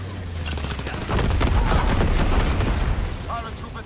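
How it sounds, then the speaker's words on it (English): Incendiary bombs burst in a Call of Duty WWII multiplayer match amid dense gunfire, a loud continuous barrage of blasts and rattling shots that swells after the first second, with voice callouts mixed in. "Enemy bomber. Incendiary bombs incoming."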